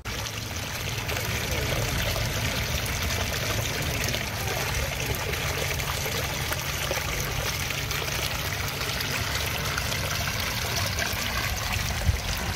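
Water trickles steadily in an outdoor botanical garden, a continuous broadband splashing wash that holds level throughout with no voices.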